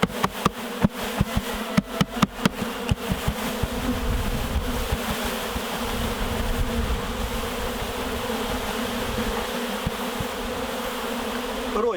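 Honeybees buzz in a dense, steady drone, mostly older flying bees shaken into nucleus hives, with a few sharp knocks and taps at the start before the swarm hum fills everything.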